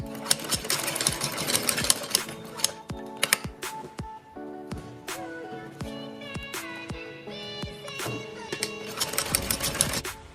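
A sewing machine stitches blouse back neck pieces in rapid bursts of needle clatter, with brief pauses and sharp clicks between runs, close and clear with no talk.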